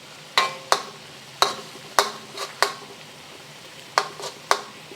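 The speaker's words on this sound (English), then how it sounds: "I'm gonna put it to the side where I can see that it's still sizzling" Ground beef and garlic in a pan, a soft steady sizzle broken by several sharp scrapes and clacks of a utensil stirring against the pan, close by with no talk.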